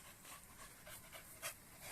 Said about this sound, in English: these some nice dogs